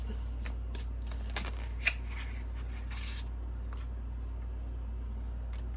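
Tarot cards are shuffled and drawn with soft, sparse rustles and slides and one small sharp tap, faint against a steady low hum, with no speech.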